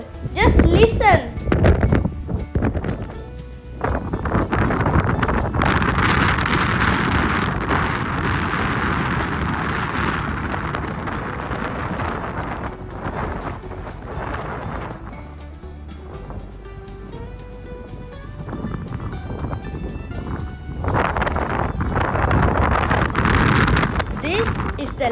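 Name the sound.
strong wind at the top of a lighthouse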